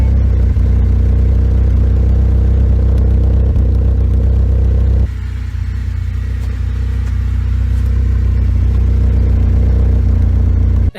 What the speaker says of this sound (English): It has so much more of like a low kind of grumbled tone to it, which is very different compared to the normal tin canny kind of raspiness that you expect from a Honda.